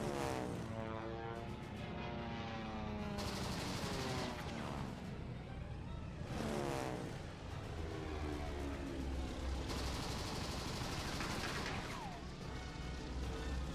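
Aerial machine gun fire in the 1927 film Wings, rapid bursts that come and go repeatedly over the steady drone of propeller aircraft engines, fairly quiet overall.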